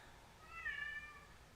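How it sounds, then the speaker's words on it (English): A house cat lets out one faint, drawn-out meow lasting under a second, quiet and slightly distant, with nothing else audible around it. "The cat is mad."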